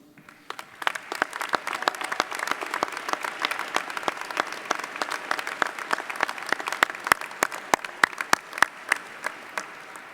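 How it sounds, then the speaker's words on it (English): Applause from the audience at a college commencement ceremony, a broad wash of many hands clapping steadily for ten seconds, with distinct sharp individual claps standing out near the microphone. "Please join me as we applaud their support of and dedication to the success of our students."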